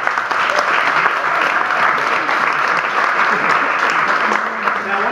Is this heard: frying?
no